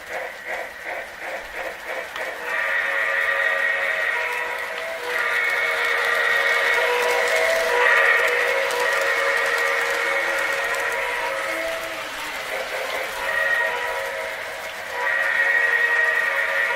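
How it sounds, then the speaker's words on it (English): A Lionel 0-8-0 New York Central model steam switcher chuffs in quick rhythmic puffs, joined by sustained whistle-like tones that rise and fade over a steady mechanical hiss. "It has nice steam chuffing sounds."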